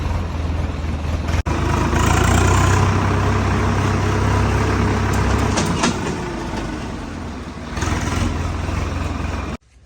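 A Sonalika tractor engine idling close by, a loud, steady low rumble that carries on evenly before cutting off near the end.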